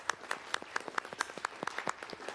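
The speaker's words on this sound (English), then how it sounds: "The clapping has to always happen when the court is in the house." Scattered hand claps for a festival royal court at a parade, a dozen or so distinct, fairly sharp claps in loose irregular rhythm, moderately quiet with no talk.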